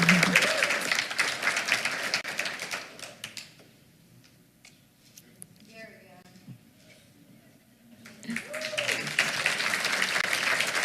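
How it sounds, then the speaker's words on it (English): Audience at a school board meeting applauding a student award recipient: a loud burst of clapping fades out, a quieter stretch follows with brief voices and small noises, then a fresh round of applause swells up again. "let's give her one more round of applause"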